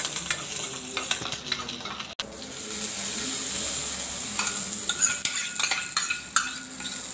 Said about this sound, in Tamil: எல்லாத்தையும் சேர்த்து நல்லா பொரியிற வரைக்கும் பொன்னிறமாக வறுத்துக்கோங்க.